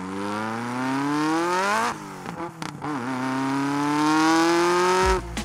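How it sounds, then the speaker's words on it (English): A car engine revs close to the exhaust, a loud rising growl that climbs steadily, breaks off with a few choppy blips, then builds again into a long sustained rev before cutting out. "when you record the car's sound from next to the exhaust"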